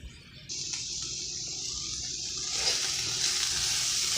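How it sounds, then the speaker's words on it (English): Grease poured out of a frying pan after cooking beef runs in a steady liquid stream, starting at once and growing a little louder toward the end, with no talk. "So right now, I'm going to drain that little bit of grease out"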